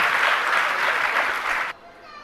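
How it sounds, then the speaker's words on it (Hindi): An audience at a religious discourse claps together in a dense, steady burst of applause that fills the room, then cuts off abruptly, leaving quiet room tone. "आपने दूसरे बार में तालियां बजा दी, पहले बार में क्यों नहीं बजाई?"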